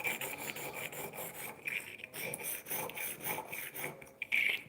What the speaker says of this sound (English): worked it around the bottom a few times, turning it a little bit, just to bring that metal up, take the paint off.